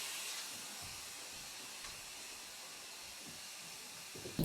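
A central vacuum system runs during a home retrofit, giving a steady, quiet airy hiss and whoosh that holds evenly throughout with faint low thumps beneath.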